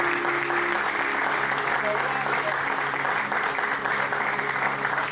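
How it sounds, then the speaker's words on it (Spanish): A church congregation gives loud, sustained applause welcoming a woman pastor and author, a dense wash of clapping filling the room with a voice faintly present underneath. "con los corazones llenos de gratitud y un fuerte aplauso recibimos a nuestra hermana pastora"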